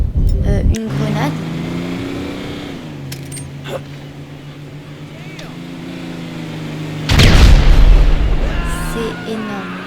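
A grenade blast in GTA 5 on a Los Antos city map, a sudden loud boom near the end with rumbling debris, following a stretch of droning engine-like hum and scattered clicks; someone talks over parts of it.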